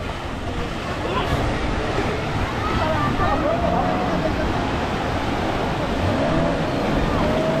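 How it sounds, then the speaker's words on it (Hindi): Sea waves washing ashore at Digha beach, a steady broadband roar and wash that runs throughout, with wind on the microphone and people talking in the background. "लहर आ रहा है।"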